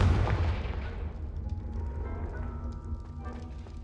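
Confringo blasting spell detonating in Hogwarts Legacy: one loud booming burst at the start, trailing off into a long rumbling decay with a low crackle underneath.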